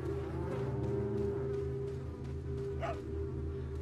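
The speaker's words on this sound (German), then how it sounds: "Da hören wir den Hund." A dog in Resident Evil 4 gives a few short barks and yips over a continuous droning game soundtrack, moderately loud and slightly distant.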